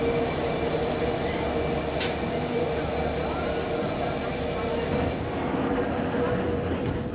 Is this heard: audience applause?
no